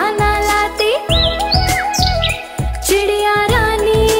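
Bright bird chirps and tweets ring out repeatedly in a Hindi children's song, layered over rhythmic music with a steady beat and jingling accompaniment.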